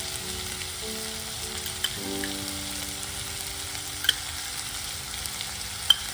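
Bok choy greens with red chillies stir-fry in a pan, a steady close sizzle and crackle running throughout with a few sharp pops of spattering oil.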